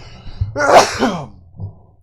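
A single sharp sneeze bursts out near the middle, followed by a brief softer exhale; quiet room noise before and after.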